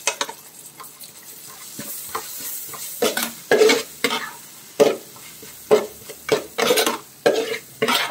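Crushed ginger, garlic and green chillies sauté with onions in a pan for a fish head curry, a close sizzle broken by repeated loud scrapes and clanks of a spoon stirring against the pan.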